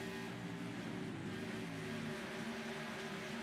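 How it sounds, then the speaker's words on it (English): Faint engine drone from racing cars in a video game endurance event, a steady buzzing tone that shifts pitch slightly as a car approaches, heard alone at low level. "I hear the roar of an engine"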